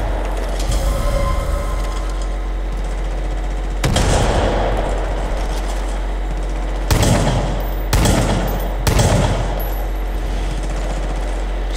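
Gunfire in Far Cry 5, several sharp, loud blasts spaced a few seconds apart, the last three coming in quick succession over a low steady rumble.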